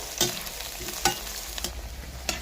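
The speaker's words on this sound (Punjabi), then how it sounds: "ਇਸੇ ਤੇਲ ਦੇ ਵਿੱਚ ਹੁਣ ਆਪਾਂ ਕਰੇਲੇ ਪਾ ਦਵਾਂਗੇ ਤੇ ਪਹਿਲਾਂ ਆਪਾਂ ਤੇਲ ਦੇ ਵਿੱਚ ਕਰੇਲਿਆਂ ਨੂੰ ਫਰਾਈ ਕਰਾਂਗੇ" Bitter gourd (karela) fries in hot oil in a wok with a steady close sizzle, and a few sharp stirring clinks cut through it, with no talking.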